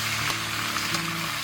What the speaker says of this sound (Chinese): 接着我们就把这个鸭肉给它放上去啊